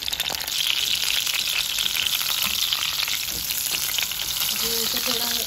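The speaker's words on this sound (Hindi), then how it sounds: "और अब हम बैगन डाल रहे हैं इसमें, इनको फ्राई करेंगे और फिर निकाल लेंगे।" Brinjal (eggplant) pieces frying in hot oil in a pan, a loud, dense, continuous sizzle close by with faint stirring clinks, no talk.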